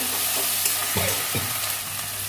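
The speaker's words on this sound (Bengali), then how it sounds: "পেঁয়াজ টমেটো ভাজা হয়ে গেছে" Onion and tomato frying in a pan and being stirred, a dense close sizzle with a few scraping strokes of the spoon, no talking.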